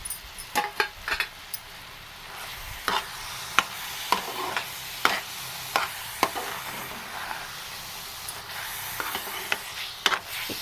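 A spoon stirs powder into a coconut and jaggery mixture in a pan, giving repeated scraping clinks at an uneven rhythm over a soft background hiss, up close.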